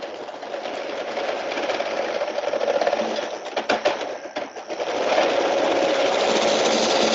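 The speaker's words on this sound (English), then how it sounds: "So now I start the pump" A pump on a pipe-coating rig starts up, giving a steady, fairly loud mechanical hum and whir that surges and fluctuates before settling into a continuous drone.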